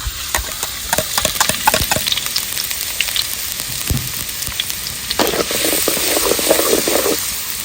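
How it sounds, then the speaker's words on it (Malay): Garlic sizzles and spits loudly in hot oil for a Malaysian steamed pomfret dish, a steady crackling fry with scattered sharp pops, brightening and intensifying toward the end. "Minyak dah panas, masukkan bawang putih."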